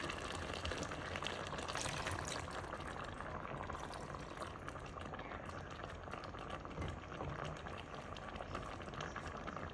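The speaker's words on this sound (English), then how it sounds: "Adding more water in." Steady watery rushing and bubbling as water is poured into a simmering pot of Congolese madesu (beans), continuous for about ten seconds with no talking.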